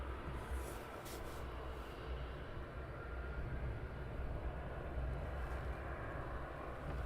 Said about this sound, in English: EasyJet has taxied down for a backtrack